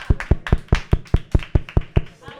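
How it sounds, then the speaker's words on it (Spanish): Audience in a crowded Irish pub clapping on request, a dozen sharp claps in a steady rhythm, loud and close, with crowd murmur underneath. "Que aplauda a la gente que fue al Boston Cat en fin de año."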